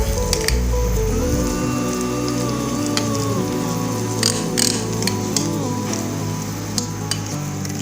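Cold process soap batter being mixed until creamy, giving a steady wet swishing and stirring texture that runs throughout, with music playing alongside.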